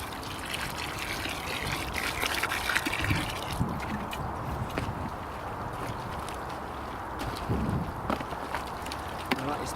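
Water trickles and pours into a sloppy potting mix with worms for strawberry runners, a soft continuous wet splashing and gurgling, close by and moderately quiet.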